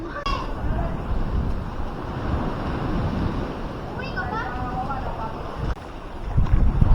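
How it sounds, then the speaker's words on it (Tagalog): Strong water current pouring through a breach, a steady broadband rush with wind buffeting the microphone and a brief thump near the end. "Palakas na ng palakas yung agos."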